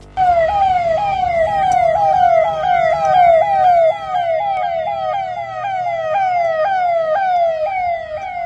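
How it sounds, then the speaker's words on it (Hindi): A loud police siren wails close by in a rapid, repeating rising sweep, continuing without a break over a low traffic rumble, sounded by a police vehicle escorting a wedding procession along a road in Uttar Pradesh, India. "पुलिस सायरन लगातार बजाए गए ताकि कोई बीच सड़क में आकर खलल न डाल दे।"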